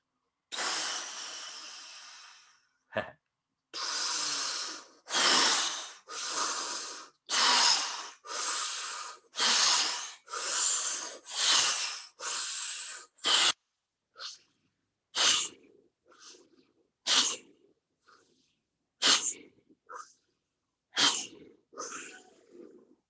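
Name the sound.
warrior breath and Tumo breathing exercise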